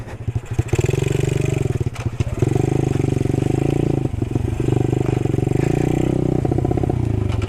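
A Honda Trail 90 motorcycle engine labors loudly through thick mud off-road, a close, continuous rough chugging drone with brief surges and clattering.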